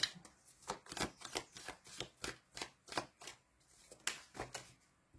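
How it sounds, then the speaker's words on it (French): Tarot cards are shuffled and drawn from a deck, giving a quick series of crisp, close paper flicks and riffles, fairly quiet, with no talking. "Je vais tirer la dernière carte pour"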